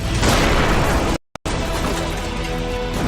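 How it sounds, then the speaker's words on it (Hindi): An Israeli air strike explodes in Tehran, Iran: a loud, dense roaring blast that fills the sound, cuts out briefly, then rumbles on heavily. "भीषण धमाके का ये वीडियो ईरान की राजधानी तेहरान का है, जहां इजरायल ने एयर स्ट्राइक की है।"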